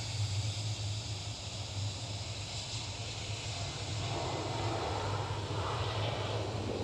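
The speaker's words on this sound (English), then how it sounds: "Nice mumbling sound in the engines." Aircraft jet engines at Schiphol airport in Amsterdam give a steady, distant roar with a low mumbling rumble that swells slightly toward the end, heard alone with no talk.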